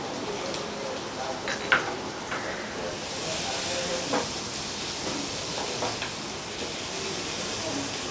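Green chillies and whole red chillies hiss and sizzle in hot oil for Punjabi chole, a steady close frying sizzle with a few sharp spits.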